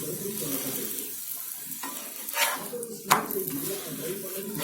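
Flatbread cooking in a little oil on a hot griddle, a soft steady sizzle with a few scraping clinks as it is turned, quiet and close.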